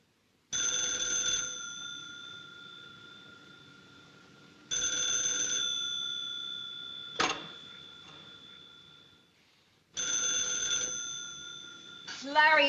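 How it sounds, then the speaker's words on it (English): An old telephone bell rings in three long, loud bursts separated by pauses in a 1940s thriller, with brief clicks and shuffling between the rings. "it isn't the clock, it's the phone"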